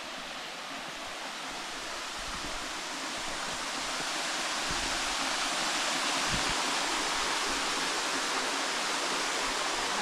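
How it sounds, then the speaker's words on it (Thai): Phen Phop waterfall at Phu Kradueng rushes as a dense, steady roar of falling water over a wide rock slab, loud and continuous and growing slightly fuller, with a couple of faint low thumps beneath it. "เรียกว่าน้ำตกเพนพบนะครับ"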